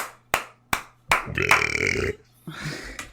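A long, loud, croaking burp follows a beer chug, preceded by a few sharp taps or claps and trailed by a shorter second belch, close up in a quiet room.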